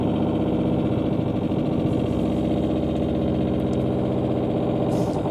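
A jackhammer pounds in rapid, continuous pulses, heard from inside a living room at 9 a.m., a steady mechanical rattle that stays loud and unbroken throughout.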